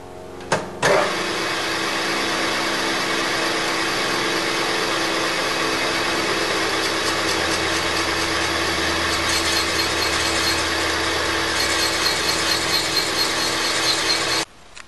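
A resurfacing machine cutting the deck of a Porsche 911 cylinder head, a steady loud grinding whir that runs without a break for about fourteen seconds, starting and stopping abruptly.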